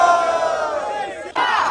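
Audience at a rap battle erupting in loud, dense crowd cheering and yelling, the roar sustained and briefly dipping before surging again.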